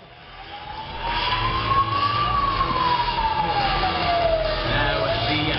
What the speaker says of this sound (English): as the Sentinel whizzes before us